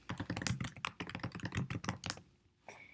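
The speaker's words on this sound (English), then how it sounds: "You can type your caption." Fast, steady typing on a computer keyboard while writing a social media caption: dense, close key clicks for about two seconds, then a pause and one last faint tap, with no talk.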